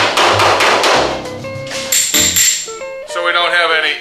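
Sharp metallic hammer strikes on a dolly straightening a panel of a 1969 Chevelle SS ring out in quick succession, bright and close, with clanging overtones between blows.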